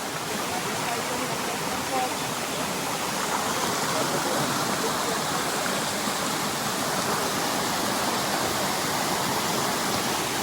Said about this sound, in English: this is the very top of the waterfall